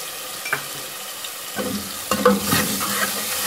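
Spices such as red chilli, turmeric powder and salt being stirred into turnip bhujia in a pan, with a scattered run of scraping, clinking spoon strokes that grow busier toward the end over a faint sizzle.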